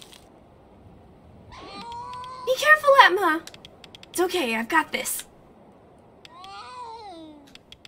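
A cat meows repeatedly in the video game A Space for the Unbound, several rising and falling meows in bursts while game characters speak over parts of it.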